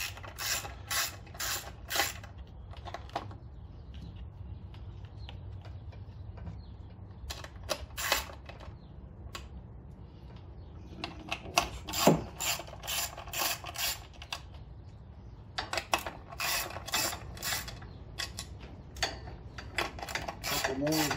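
A ratchet wrench loosens the nuts on the air cleaner of a Westinghouse WGen 7500/9500 generator, giving several bursts of quick, close clicking separated by pauses, with some speech in places.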